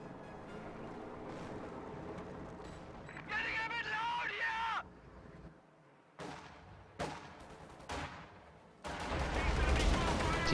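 Machine gun and mortar fire in a WWII real-time strategy game, with bursts of gunfire and heavy booming impacts under continuous commentary, ending in a louder rumbling barrage.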